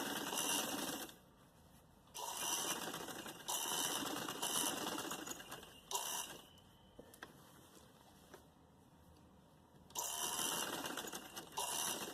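A sewing machine stitches lace onto a kurti neckline in three loud, steady runs separated by quieter pauses, the motor whirring evenly close by.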